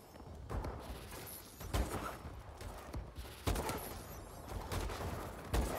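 Sniper rifle shots in an online shooter video game, several sharp cracks spaced a second or two apart over a background of game noise, at moderate volume.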